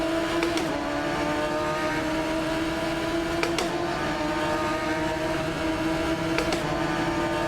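A Radical race car in Assetto Corsa launches from the start with a bit of wheel spin, its engine droning at a steady high pitch with a whirring hum throughout and faint surges of other cars nearby.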